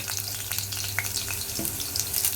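Methi (fenugreek) leaves sautéing with browned garlic in a pan over low heat, a steady close sizzle with soft scraping and stirring clicks throughout.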